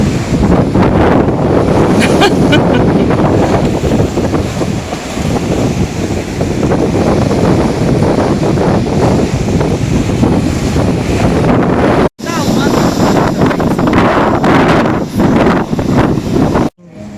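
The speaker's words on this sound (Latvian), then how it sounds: "Tur tā klintas un baigie viļņi." Big ocean waves crash against sea cliffs on the coast of Madeira, a constant loud roaring surf with heavy wind buffeting the microphone, cut briefly near the end, with no talking.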